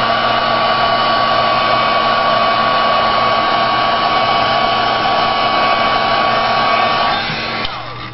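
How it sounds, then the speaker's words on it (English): A handheld heat tool blows steadily and loudly for about seven seconds while drying ink on an image for a glass pendant, its whirring hum holding even before dropping off as it is switched off near the end. "I'm going to hit it with my heat tool just to dry that ink"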